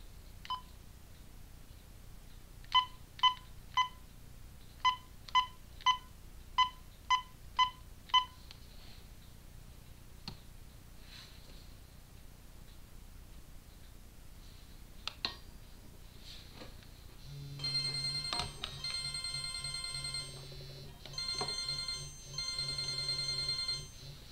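A phone submerged in water is dialed: a series of separate keypad beeps in an uneven rhythm, then a long, steady electronic ringtone with repeating tones, all faint and with no talking.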